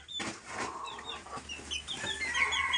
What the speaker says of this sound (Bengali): তিনটা মিশরি ফাউমি আর দুইটা দেশি মুরগি